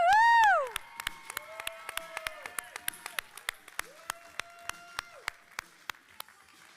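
A brief rising electronic tone opens, then an audience at a conference opening session on Marco Island does a double clap, sharp claps ringing out together in a steady, evenly spaced rhythm.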